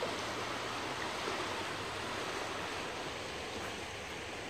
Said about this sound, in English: Yep, so that's the Bush River.